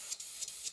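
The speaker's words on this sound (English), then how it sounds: "I'm going to spray from a long way back" Spray can misting varnish from a distance onto small 1/700 scale Revell model ship parts, heard as three short soft hissing bursts over a steady background hiss.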